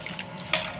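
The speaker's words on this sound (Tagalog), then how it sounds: "Pwede na nating lagyan ng tubig. Lagyan na natin ng tubig." Water pours into a pot of sautéed carrot in a short, close splashing gush with a brief brighter burst partway through.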